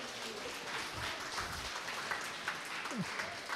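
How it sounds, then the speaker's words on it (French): An audience at a hospital's New Year wishes ceremony in Argenteuil claps in soft, distant, scattered applause that holds steady throughout. "Allez-y, applaudissez, parce que je sens les applaudissements."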